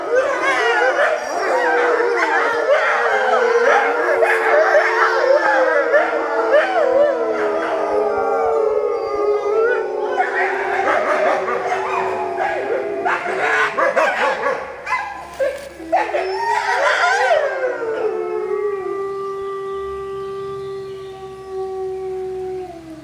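A pack of white wolves howling together in chorus, many overlapping long, wavering, rising and falling howls loud and close, thinning out toward the end to a few sustained tones and yips.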